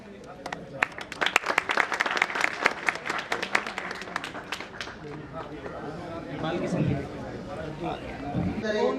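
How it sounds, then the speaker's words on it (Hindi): Crowd applause greeting a guest at a public event for road construction in Sangam Vihar, Delhi, with dense clapping swelling and continuing throughout, mixed with crowd chatter and voices. "सभी लोग जोरदार तालियों के साथ स्वागत कीजिए"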